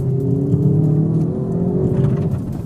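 A 2018 Hyundai i30 N, a front-wheel-drive hot hatchback, has its engine revving hard, with a loud, close, rising whine and rumble. There is no talk over it.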